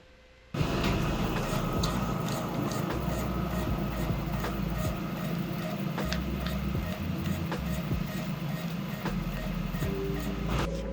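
A Xerox Nuvera 288EA digital production printer runs off a stack of 8.5 by 11 sheets, starting up into a steady loud mechanical rumble with rapid rhythmic ticking and clacking of paper feeding through, continuous and close.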